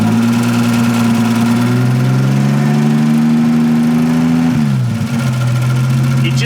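A Nissan RB30E+T turbocharged engine runs steadily and loud at a fast idle, its droning tone holding level before dipping briefly near the end and settling again, with no talk.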